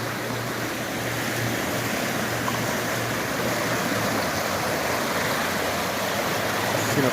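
Fast-flowing mountain stream water at a gold panning spot, swollen with flood runoff, rushes in a steady, full roar with no break, close by and alone.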